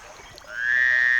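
A cartoon frog in an animated fable croaks once: a sustained, bright, buzzy call that starts softly and swells loud, heard alone and close.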